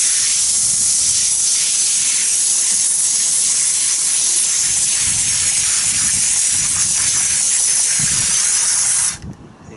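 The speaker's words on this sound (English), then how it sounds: "You can see the type of spray that comes out of there. This one is a foamer." A hand-pumped foamer sprayer gives off a continuous loud, airy hiss of foam spraying, with faint pulsing from repeated pumps, cutting off abruptly at the end.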